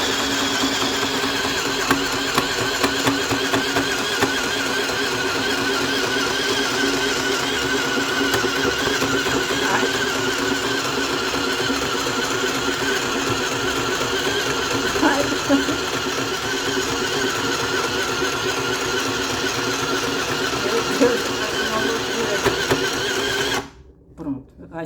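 Mini portable sewing machine running steadily while stitching fabric, a continuous fast whirring mechanical buzz with rapid needle chatter, close and fairly loud throughout before it stops abruptly at the end.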